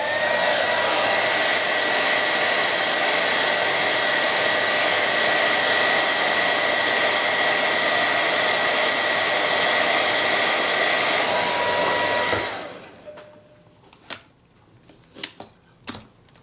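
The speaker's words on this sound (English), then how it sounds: "starting with the hairdryer, which will make a terrible noise" A hair dryer blows steadily and loudly for about twelve seconds, up close, warming a camera with a dead shutter during a repair, then cuts off, leaving a few faint clicks and small handling taps.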